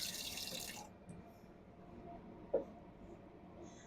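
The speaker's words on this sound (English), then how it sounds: "So I'm just going to add a smidge of water." A brief, soft hiss of a small splash of water poured into a pot of chicken pot pie filling stops after under a second, leaving quiet room tone and a single small plink.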